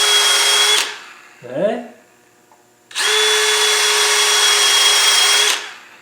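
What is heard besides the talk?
power drill drilling out a hole to 5 millimetre tapping size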